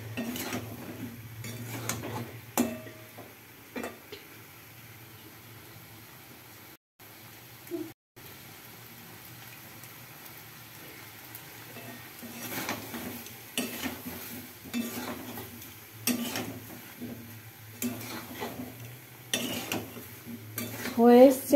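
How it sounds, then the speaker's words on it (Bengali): Potatoes for vegetarian aloo dum sautéed with spices in a pan, quiet frying under irregular scrapes and clinks of a spoon against the pan, with brief pauses and a few louder stirring strokes near the end. "তো এখন এটা কষিয়ে নিচ্ছি ভালো করে।"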